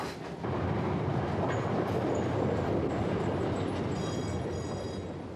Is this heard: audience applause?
no